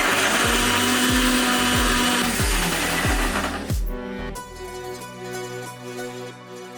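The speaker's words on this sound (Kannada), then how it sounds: "ಹಾಗೆ ಸ್ವಲ್ಪ ನೀರು ಸೇರಿಸ್ಕೊಂಡು ಮಿಕ್ಸಿಗೆ ಹಾಕ್ಕೋಬೇಕು" A kitchen mixer grinder whirs loudly, grinding coriander, garlic, grated coconut, ginger, cinnamon, cloves and cardamom with a little water, pulsing in short bursts before settling into a steady, lower hum.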